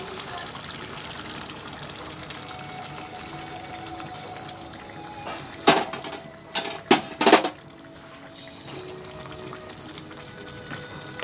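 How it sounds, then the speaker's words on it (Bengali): Hot water is poured into a pot of cooking chicken, a few short splashing gushes breaking over a quiet background of soft simmering. "দিয়ে দেবো আর একটু জল, গরম জল।"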